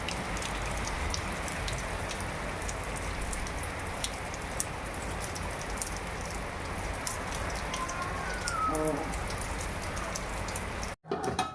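Heavy storm rain pours steadily and continuously in Kerala, a dense broadband roar with gusting wind, close and loud throughout with no voices, briefly cutting out near the end.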